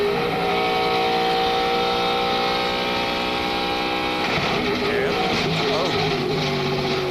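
Onboard sound from a driver's NASCAR race car in the 2003 Ford 400, a steady loud engine drone at high revs with a shift in tone near the end, with voices talking over it.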